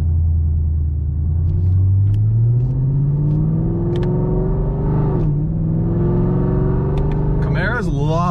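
A modded 550 hp Camaro with full bolt-ons, running on E85, accelerates with a deep, loud exhaust rumble that climbs steadily in pitch, dips briefly at a shift, then revs hard again near the end.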